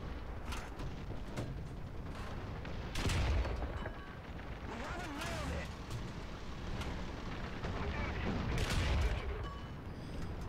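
Tank gunfire in the video game War Thunder, with repeated booming cannon shots and rumbling battle noise under continuous engine drone, dense and loud throughout the scene.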